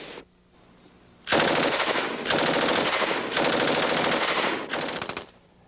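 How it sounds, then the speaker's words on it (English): A Stoner 63 belt-fed machine gun fires three long, loud automatic bursts in quick succession, the rounds close and harsh, followed by a shorter final burst. "As a belt-fed, solenoid-operated weapon, the Stoner 63 could be mounted in a vehicle or aircraft."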